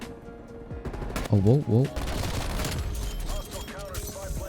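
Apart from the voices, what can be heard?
Krig-6 rifle gunfire in video game Call of Duty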